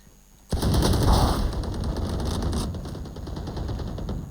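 Gunfire from the Sheriff pistol in an online shooter game starts suddenly after a brief quiet moment and then runs as a loud, dense burst of shots and impacts before thinning slightly toward the end, with no talk.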